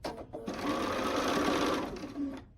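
A sewing machine stitches fabric pieces together in one continuous, close whirring run of rapid needle strokes, starting after a short pause and slowing to a stop.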